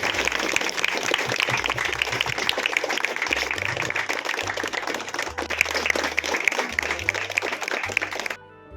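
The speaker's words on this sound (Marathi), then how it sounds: "सर्वांनी जोरदार टाळ्या वाजवायच्या" A village felicitation ceremony crowd applauds loudly and steadily for the whole stretch, a dense wash of clapping with faint voices underneath before it cuts off near the end.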